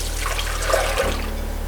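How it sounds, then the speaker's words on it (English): Custard base mix for chocolate ice cream poured from a pan into a bowl, a steady close liquid pour with a soft splash that cuts off abruptly near the end. "we're going to pour our custard base mix"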